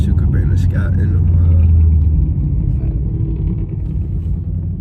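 A heavy vehicle rumbles past close by, a loud low roar that swells and then fades, with voices talking over it.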